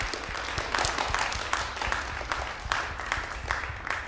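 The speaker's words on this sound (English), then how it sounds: "let's give them another round of applause." Concert audience at an electroacoustic improvisation summit applauding a volunteer crew, with moderate, steady clapping from a modest crowd heard at a slight distance.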